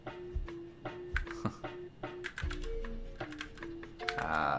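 Someone types on a computer keyboard in bursts of close, crisp key clicks, with a faint hum underneath.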